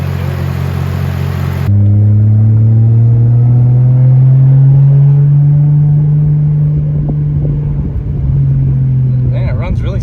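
A turbocharged Lexus IS300 SportCross with an XS Power turbo kit and upgraded clutch, heard from the cabin as a loud, smooth engine drone that rises steadily in pitch under acceleration, then eases, with people talking over it.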